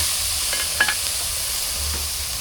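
Food being stir-fried in a pan, a steady hiss and sizzle throughout with a couple of faint utensil scrapes, close and continuous with no talking.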